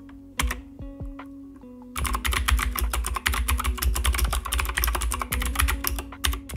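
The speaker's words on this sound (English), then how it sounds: "I have the blue switches installed here, which are very loud and clicky." Rapid, loud clicky keystrokes from a mechanical keyboard with blue switches, starting with a few sparse presses then becoming a dense, continuous burst of typing.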